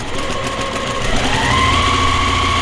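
A sewing machine stitches border fabric onto an Aida cross-stitch piece at a longer stitch length, a steady close mechanical whir with a sustained motor tone that rises slightly midway.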